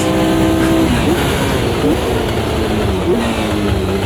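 A Formula Vintage race car in Automobilista 2 revs loudly and steadily close by, its engine note climbing and dropping through a right-hand corner as the tires spin. Someone talks over the engine.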